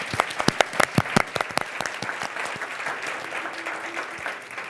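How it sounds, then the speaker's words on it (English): An audience at a community panel event applauds the panelists: a few sharp, close claps at first, then dense, steady clapping that carries on and slowly eases. "join me in a round of applause for these folks"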